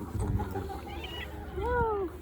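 A cat meows several times with rising and falling cries, close by and fairly loud, outdoors at a winter caravan campsite by the sea, with a low rumble and faint voices underneath.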